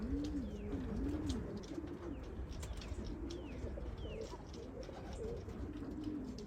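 Racing pigeons coo steadily in a loft, their low rolling calls repeating throughout against a busy background of other bird chirps and faint wingbeats.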